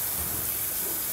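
Ginger and garlic paste hits a hot pan and gives off a steady, even hiss of sizzling that holds for about a second and then cuts off abruptly.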